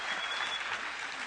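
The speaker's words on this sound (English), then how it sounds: "We can handle pretty much any amount of applause" A conference audience at Google I/O 2009 breaks into applause, a dense, loud wash of clapping filling the whole short moment with no voices.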